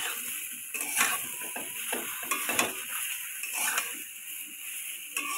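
Jujube pickle with turmeric and a little water stirred in a pan on the stove, a continuous close scraping and sizzling with rhythmic spoon strokes throughout.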